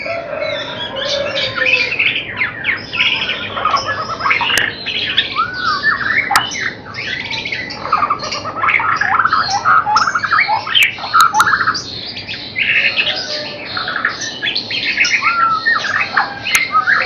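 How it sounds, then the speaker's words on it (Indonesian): A very young songbird in training chirps and squawks almost continuously, rapid bright calls close by with a few sharp peaks and no talk. "Ini burung masih muda sekali."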